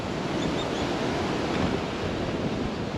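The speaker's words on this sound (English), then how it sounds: "obviously it'll pick up the sound of the water" Ocean surf on a beach at Bowen, Queensland, a steady wash of breaking waves with wind, heard close and continuous with no voices.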